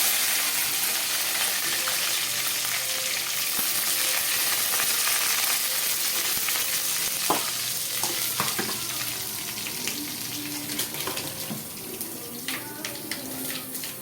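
Urad dal and curry leaves fry in hot oil with a loud, dense sizzle that goes on throughout, then settles into crackling with scattered pops and stirring clicks near the end.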